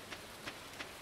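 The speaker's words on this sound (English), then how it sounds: "And it's raining." Steady rain hisses softly in the Stardew Valley farming game, a faint even wash with a few gentle periodic swells, no voices present.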